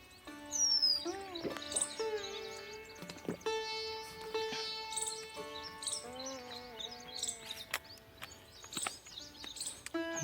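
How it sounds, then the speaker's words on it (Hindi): Birds chirp and call in the quiet of a forest trail rest stop, with varied tweets and whistled notes repeating near and far, gentle and fairly faint. "पक्षियों की चहचहाट भी सुनते हैं।"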